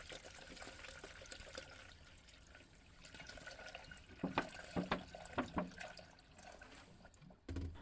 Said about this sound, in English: started pouring in the first gallon of distilled water